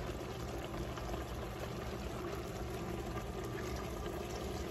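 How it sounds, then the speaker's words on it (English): Water pours into a boiling pot of Haitian bouillon, a steady close splashing and bubbling wash that runs without a break and no voices on top. "why is she adding the water on the side?"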